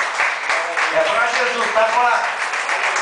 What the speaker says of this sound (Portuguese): Uma grande salva de palmas para Jesus